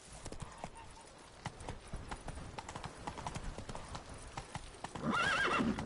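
A horse gallops in The Witcher 3: Blood and Wine, with rapid rhythmic hoofbeats close up and a loud whinny at the end.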